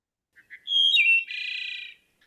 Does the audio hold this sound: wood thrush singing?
yes